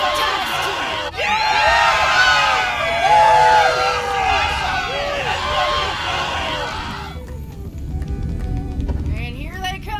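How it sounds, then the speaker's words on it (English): A crowd in the Borderlands 3 Bounty of Blood DLC cheering and shouting loudly together, a dense roar of many voices that holds for several seconds, then fades. "Let's have a cheer for Johnny's team!"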